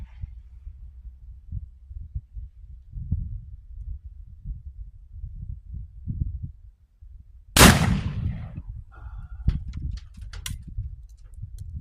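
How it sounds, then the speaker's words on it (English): A single loud gunshot cracks out from a blackpowder muzzleloading double-barrel shotgun firing a slug, standing alone after quiet rumbling handling noise, followed by a fading echo and a few small clicks. "I'm going to aim at the center of that target"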